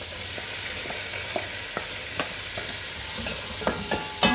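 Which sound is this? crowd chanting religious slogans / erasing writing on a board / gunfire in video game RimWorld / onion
onion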